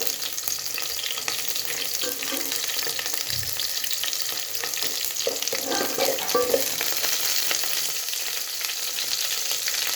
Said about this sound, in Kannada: ಈರುಳ್ಳಿ, ಕರಿಬೇವು, ಸ್ವಲ್ಪ ಸಾಸಿವೆ, ಜೀರಿಗೆ ಹಾಕಿ ಫ್ರೈ ಮಾಡ್ತಾಯಿದ್ದೀನಿ.